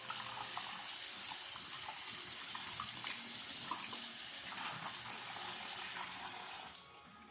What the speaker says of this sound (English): I'm just washing this with just nice water.